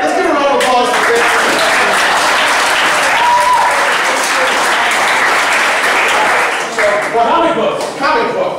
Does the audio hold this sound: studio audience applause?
yes